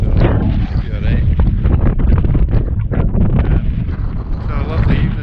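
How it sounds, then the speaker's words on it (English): Strong wind buffets an outdoor microphone on open flat grassland along the Cape Wrath Trail in the evening, a loud continuous rumbling roar with gusty swells. "There's the wind going that way, so should be alright."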